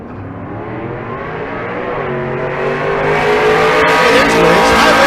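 A 2002 Camaro and a Fox-body Mustang launch side by side at a drag strip, engines roaring loud and close with a steadily rising pitch as both cars accelerate hard for several seconds, no voices.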